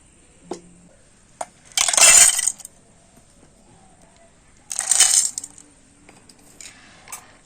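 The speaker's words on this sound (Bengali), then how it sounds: "এই মিছড়িগুলো এখন আমি মিক্সি জারের মধ্যে নিয়ে নেব" Rock sugar crystals (misri) are poured into a mixer grinder jar. Two bursts of hard crystals rattle and clatter into the jar, each lasting under a second, separated by a pause and a few isolated clicks, close up with no speech.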